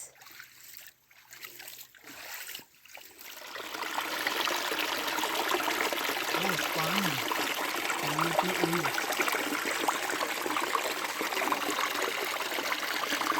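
Steady babbling stream water flowing close by in a Konkan village, a continuous bright rushing trickle after a few faint knocks at the start.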